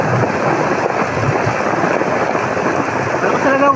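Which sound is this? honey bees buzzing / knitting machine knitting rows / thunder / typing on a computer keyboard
thunder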